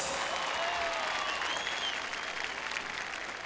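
Carnival crowd in Campeche, Mexico bursting into loud, sustained applause and cheering, a dense wash of clapping with a few whistles rising above it, steady for the whole stretch.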